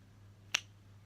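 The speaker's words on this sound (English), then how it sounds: "stop snapping" A single crisp finger snap, close and sharp, standing alone against a faint steady hum.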